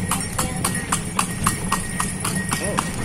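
Horse hooves clip-clopping at a steady trot while pulling a delman carriage around a fountain park in Purwakarta, close and rhythmic, with light background voices.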